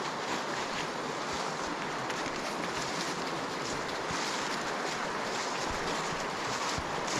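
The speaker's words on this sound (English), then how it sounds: "So I've got the sound of the river constantly." Steady rushing water of a river flowing beside a walking path along Haltwhistle Burn, a continuous broadband wash with no breaks, heard close and alone.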